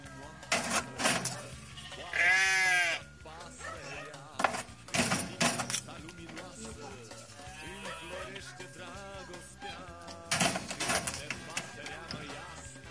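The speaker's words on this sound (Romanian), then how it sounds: "vezi o oaie cum îl urmează precum un copil curios" A sheep in a rural farmyard bleats several times, with drawn-out wavering calls spread across the stretch over a bed of background noise.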